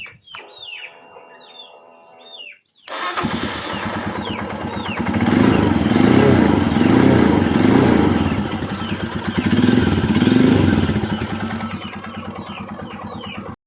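A Royal Enfield Himalayan motorcycle, just repaired for an ignition fault, fires up and settles into a loud, steady single-cylinder idle with rising revs; birds chirp in the background before and during the engine running.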